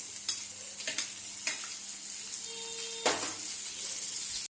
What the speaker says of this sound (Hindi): अब हम इसमें ये मसाला डाल देंगे जो हमने पहले तैयार किया हुआ था।